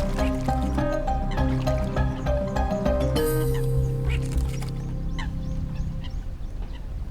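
Eurasian coot attacking a common moorhen in a territorial fight on a lotus pond, loud splashing and flapping mixed with harsh calls over a musical background, no voices.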